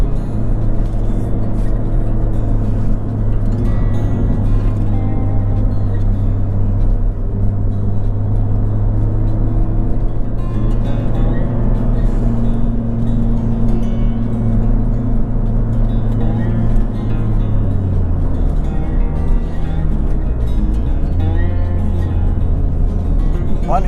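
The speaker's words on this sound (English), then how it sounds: "Traffic here was actually not very bad." Steady road traffic in Pacifica, California, heard as a continuous low rumble of cars from inside a moving vehicle, with engine drone shifting in pitch.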